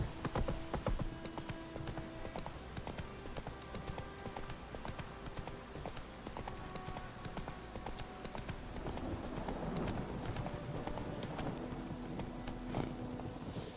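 Steady clip-clop of horse hooves walking in The Witcher 3 over continuous rumbling storm noise, with a brief whinny-like sound near the start.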